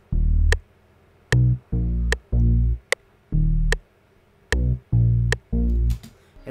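Deep bass one-shot from a trap melody, playing a bouncy, syncopated pattern of about ten short, punchy low notes over a sparse high tick, loud and alone without any voice.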